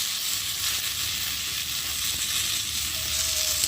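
A fish curry masala with turmeric, salt, green chillies and tomato sizzles and fries steadily in the pan, a loud, continuous hiss with faint stirring and no talk.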